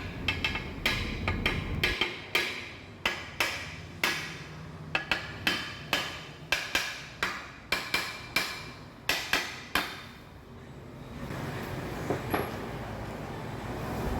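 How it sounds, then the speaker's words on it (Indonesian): A hammer taps gently and steadily on parts while a Honda HR-V transmission is being assembled, giving a long run of crisp metallic knocks at roughly regular intervals before the tapping thins out and stops. "Pakai palu pelan-pelan."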